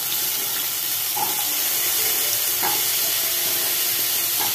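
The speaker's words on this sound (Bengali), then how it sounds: "এবার এই তেলের মধ্যে আমি আলু যেগুলো ধুয়ে রেখেছিলাম, সেই আলুগুলোকে একটু ভেজে নেব" Potatoes that had been washed fry in hot oil in a home kitchen pan, giving a steady broadband hiss with faint crackles throughout and no speech.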